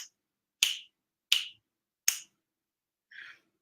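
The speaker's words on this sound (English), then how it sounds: "You're not going to want to click your fingers for 5 minutes." Four crisp finger snaps, evenly spaced and isolated against silence, the last one softer than the rest.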